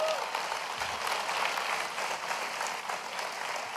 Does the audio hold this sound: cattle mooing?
no